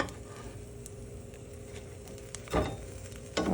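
Grilled cheese sandwiches sizzle in a pan with a soft, continuous frying hiss, broken by two louder scraping, squishing bursts near the end as they are flipped.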